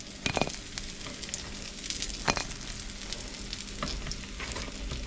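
Pieces of bowfin fish crisping in a hot pan give a dense, continuous crackling sizzle up close, with a few sharper pops and spits standing out.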